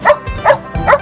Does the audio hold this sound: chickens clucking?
no